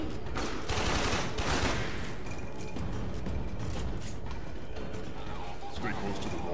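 An enemy in the video game Warframe fires a big gun, producing loud bursts of rapid gunfire and mechanical clanking at the start that give way to steady battle noise, with people talking over it.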